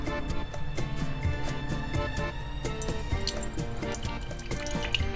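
Narcissus water heater running its self-test, with water flowing steadily from the dispenser alongside faint clicking and humming from the unit, continuous and close throughout.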